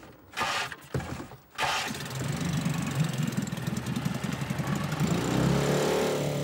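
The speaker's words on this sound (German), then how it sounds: "Das letzte Angelboot muss noch raus." A small fishing boat engine cranks and catches, then settles into a steady, close, chugging drone with rhythmic knocking pulses that holds to the end.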